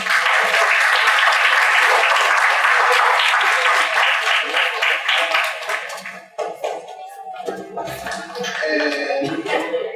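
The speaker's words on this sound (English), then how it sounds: "give your parents a round of applause" A strong round of applause for parents at an Upward Bound banquet, dense clapping for about six seconds before it thins into scattered claps and other room sounds.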